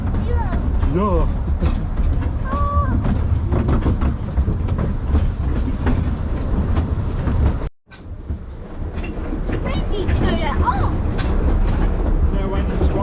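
A WW1-era steam train runs on rails at Apedale in October, its steady loud rumble and rail clatter filling the clip, with a brief sharp drop near the middle; people talk over it.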